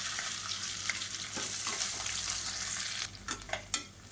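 Chopped onion and curry leaves fry in hot oil for a South Indian kulambu, a steady close sizzle with a few sharper spatters and stirring scrapes near the end.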